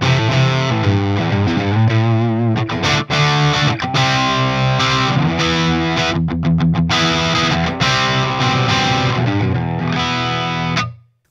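Electric guitar, a Les Paul-style instrument, played through a Green Beret amp with an LS208 at a crunch setting: loud, close, mildly overdriven chords and riffs with rhythmic stops, ringing on for about eleven seconds before cutting off.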